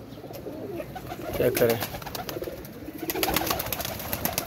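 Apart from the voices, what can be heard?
pigeons cooing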